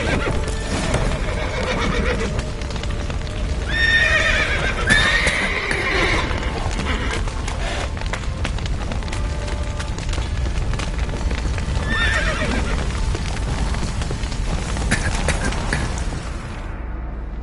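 Horses whinny loudly amid a dense, rumbling din of hooves and commotion in the video game The Witcher 3, with neighs rising clearly around the middle and again near the end.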